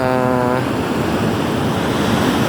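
Rough sea during a signal number 2 typhoon in Palawan churns loudly and continuously, a broad roar of surf and wind buffeting the microphone, with a brief tonal hum at the start.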